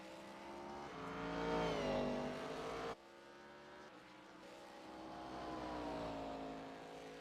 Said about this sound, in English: there's that Cheez-It 48 going through the chicane on the backstretch